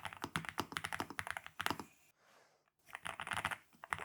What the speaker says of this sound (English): We're going to listen to this keyboard and start typing.